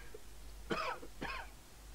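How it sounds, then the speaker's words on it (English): A man coughs twice in quick succession, two short harsh bursts close by, with quiet room tone around them and no talking. "Excuse me, sir. Do you need a cough medicine?"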